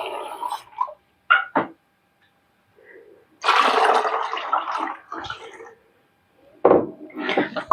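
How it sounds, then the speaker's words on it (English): Water poured into a bottle while mixing a homemade natural cleaner, heard as a few short gurgling bursts followed by a longer, fuller pour, then another splash, close and fairly quiet. "And then all you do is adding a cup of water."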